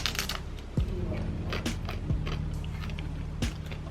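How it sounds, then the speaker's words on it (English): Tough crackers crunch in a few sharp, crisp bites spaced about a second apart, close to the mic and alone, over a steady low road-trip hum. "you know how long I'm gonna eat that tough crackers?"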